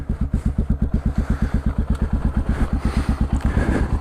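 A CCM DS 644 single-cylinder motorcycle with a big bore kit, twin spark plugs and two carburetors idles close up, its exhaust giving a loud, even, low thumping pulse throughout.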